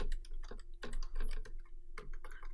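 Clattering keystrokes on a computer keyboard while a Java print statement is typed, irregular clusters of close, crisp clicks with short pauses between bursts, no voices.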